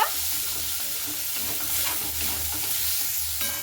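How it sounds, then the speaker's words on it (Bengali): Chopped carrots being stirred in a pan, a close continuous sizzle with scraping and shuffling of a spoon, steady and fairly loud, no talking. "সেই গাজর কুচিগুলোকে দিয়ে এবার খুব ভালো মতো করে আবার আমি নাড়াচাড়া করে নেব।"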